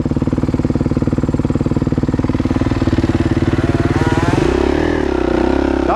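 A Kawasaki KX450F motocross bike engine chugs with a steady rapid beat close by, then revs up and pulls away as the pitch rises and the note changes.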